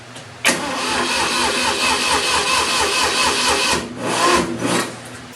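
A Ford 2000 tractor engine catches abruptly and runs loud and close with a steady throbbing idle for about three seconds, then dips and surges back in a rough burst.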